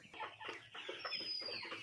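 A flock of Koyla chickens about fifty days old, weighing roughly 1.6 kg each, clucks continuously on a poultry farm, with overlapping calls rising and falling close by.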